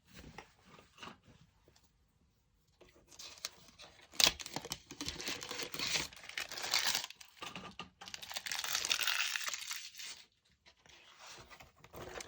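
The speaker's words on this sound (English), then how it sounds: "I haven't even opened this yet, but it has some really nice neutral pages in there. I'm just going to cut this open." Plastic wrapping on a Happy Planner notebook being cut open and pulled away, with close crinkling, tearing and scratchy rustling in irregular bursts after a quiet start.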